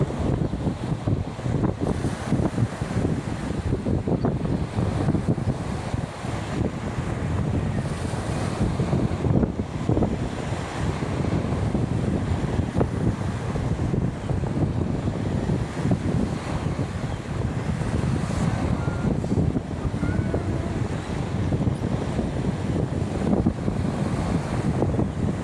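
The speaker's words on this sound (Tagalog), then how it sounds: "Sa tabing dagat, mapahangin, sarap ang hangin" Strong wind buffets the microphone over rolling surf at the shore, a constant roar that stays loud and unbroken the whole time.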